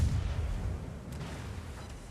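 Battleship guns firing in World of Warships, with a deep booming rumble at the start that rolls off into a low lingering drone and faint distant pops.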